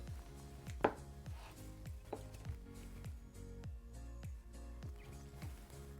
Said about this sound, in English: Now I'm gonna chop up this mozzarella and get that in there as well.